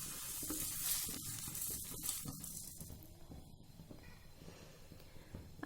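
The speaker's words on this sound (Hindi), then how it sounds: "इसको हम कढ़ाई के अंदर डाल देंगे और इसको 4 से 5 मिनट के लिए रोस्ट करेंगे" Homemade garam masala spices dry-roasting in a kadhai, a soft sizzle and crackle with stirring scrapes, faint and fading toward the end.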